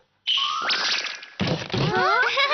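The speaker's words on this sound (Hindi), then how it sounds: "पेपर को खोलो और उसके पीछे इस तरह से हाथ मारो" A hand smacks the back of an opened sheet of paper, giving a sharp slap followed by a second crisp thwack, set among cartoon sound effects and tonal swoops.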